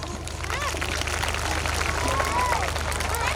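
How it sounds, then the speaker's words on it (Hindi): An audience applauds at a school annual function, a dense, steady wash of clapping that fills the whole stretch over a low hum, with faint voices mixed in. "Please clap."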